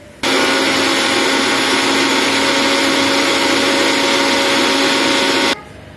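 A mixer grinder whirs loudly and continuously for about five seconds, grinding a roasted beetroot mix with coconut in the jar, starting abruptly and cutting off sharply.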